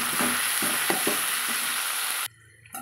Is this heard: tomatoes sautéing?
yes